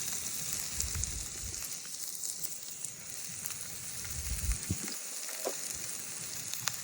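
Red onion, yellow and orange pepper, carrots and broccoli frying in coconut oil over an open fire grill, a steady crackling sizzle that continues throughout at moderate loudness.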